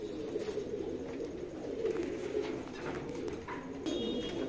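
Pigeons coo in low, repeated murmurs inside a loft, steady and close throughout with faint rustling and no talk.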